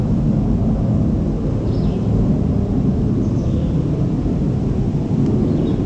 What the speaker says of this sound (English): Sorry about the jet noise